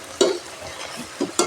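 Chicken fry being stirred in a hot pan, a few short scraping stirs at irregular intervals over a soft background sizzle, close and moderately loud.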